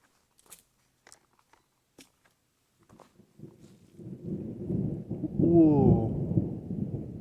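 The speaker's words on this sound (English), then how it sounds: "It was so sunny. Now there's thunder." Thunder on a sunny day along a hiking trail at the Frank Knowles Reserve: after a few faint clicks, a deep rumble builds and rolls loudly for several seconds, fairly near.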